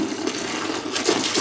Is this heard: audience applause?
no